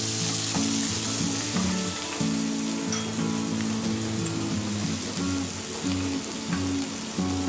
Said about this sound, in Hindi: ये हमारी प्याज और कैप्सिकम दोनों ब्राउन और सॉटे हो गए हैं।